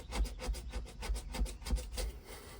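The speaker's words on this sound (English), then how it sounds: "I'm going to try to scrape off as much as I can" Rhythmic back-and-forth scraping of residue off a window piece on a 1991 Jeep Wrangler, about eight or nine steady rasping strokes, close and fairly quiet, with no talking.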